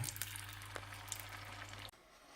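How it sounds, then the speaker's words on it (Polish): Omelette with broccoli and black olives frying in butter in a pan, a steady close sizzle that holds for nearly two seconds and then abruptly cuts off. "i teraz na masełku będziemy smażyć tego omleta"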